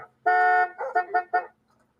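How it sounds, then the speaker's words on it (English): A car alarm blares its horn in a long honk followed by a quick series of shorter, uneven toots, loud and close, with no one talking. "the car's alarm is doing Morse code"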